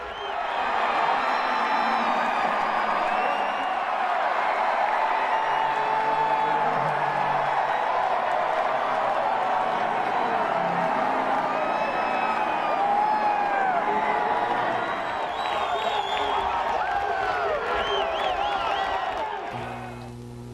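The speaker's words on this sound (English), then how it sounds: "the crowd, a huge first day qualifying crowd, the whole place just went berserk, and it went on and on and on and on" A huge first-day qualifying crowd at the Indianapolis racetrack roars with cheers, whoops and applause, a dense, sustained wall of noise heard from a distance that barely dips over twenty seconds.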